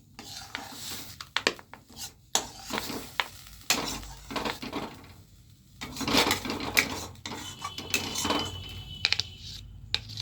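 Taro leaves (kochu shak) being stirred in a cooking pot at home, irregular scraping and clattering of a utensil against metal, close and uneven, with brief pauses between bursts.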